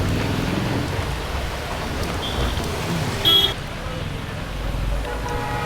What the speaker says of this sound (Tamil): மழை பாருங்கள் இன்னும் விட மாட்டேங்குது.